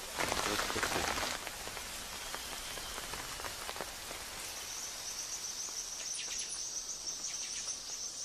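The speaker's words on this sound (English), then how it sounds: "A light shower forces the men to rest for a day." A light rain shower in the Amazon rainforest patters steadily on leaves and surfaces, with a brief heavier burst at the start, while insects and crickets chirp continuously and a bird calls faintly in the background.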